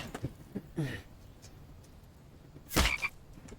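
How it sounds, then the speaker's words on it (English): A frog croaks in an open-world crafting survival video game, two short separate calls, the second louder and brighter, over a quiet ambient background with no talk. "Oh, we've got a frog."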